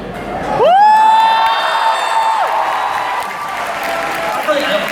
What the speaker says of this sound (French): si vous hurlez comme ça chaque fois qu'il vous dit non, on n'y arrivera pas